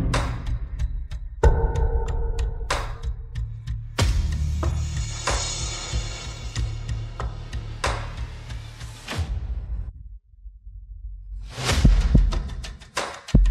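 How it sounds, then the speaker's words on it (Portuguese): A strong, powerful heartbeat sound effect, deep booming thumps pulsing under dramatic music with sharp hits and a brief drop to near silence before the beats return. "Um batimento cardíaco forte e poderoso."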